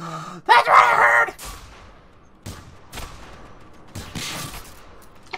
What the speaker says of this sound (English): That's what I heard. Gunshots.